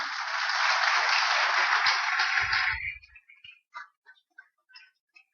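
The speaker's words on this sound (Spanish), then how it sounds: "Den un aplauso al Señor." Church congregation applauds at a service, a dense burst of clapping lasting about three seconds that cuts off abruptly, followed by a few scattered faint taps and sounds in near silence.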